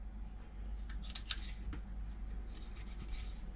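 A knife filleting a fish aboard a sailboat: soft scraping, rasping strokes in short bursts against a steady low hum, quiet and close.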